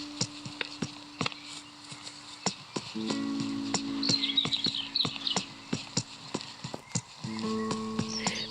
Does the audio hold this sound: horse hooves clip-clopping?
yes